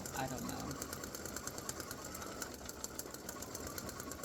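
An embroidery machine stitches a fill-stitch applique with underlay, a steady rhythmic mechanical chatter of rapid needle strikes running continuously throughout at moderate volume.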